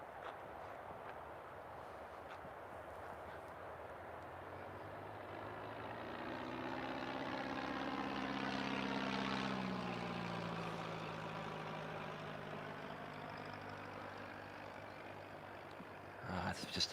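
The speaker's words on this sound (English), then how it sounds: "I think that's that nice, beautiful private jet coming" A private jet passes overhead outdoors, a broad roar that swells toward the middle and fades away with a sweeping, shifting tone, heard steadily with no voices over it.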